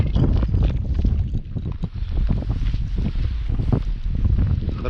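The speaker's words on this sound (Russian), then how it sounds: "Поднимается ветер." Strong wind buffets and roars across the microphone steadily, with low rumbling gusts and no voices.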